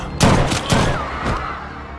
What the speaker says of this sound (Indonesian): namun harus disusul dengan tembakan polisi Yunani terhadap Vale